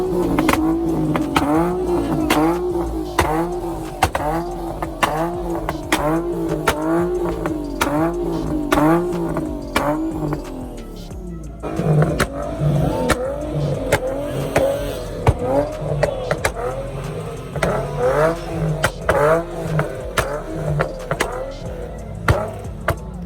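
A car engine revs hard again and again in rapid bursts, loud and near, with sharp pops and flames between the revs and no talking, at a large street car cruise.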